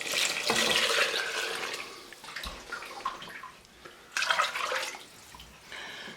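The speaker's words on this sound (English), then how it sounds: "Now that I've got that stirred in, I'm going to add our water." Water pours steadily into a pot of French onion soup in a close, rushing stream, briefly tapering before a second loud splash of pouring near the end.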